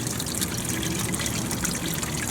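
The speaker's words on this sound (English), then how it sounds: "Try and let all that water drain in there." Water drains and trickles steadily from a waterlogged self-wicking planter bucket, a constant close, hissing flow of liquid without pause.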